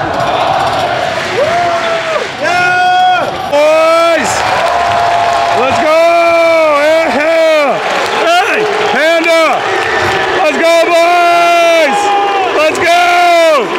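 Crowd at an esports championship cheering and whooping loudly, with repeated shouted calls and yells rising over a constant roar of noise, close and energetic throughout.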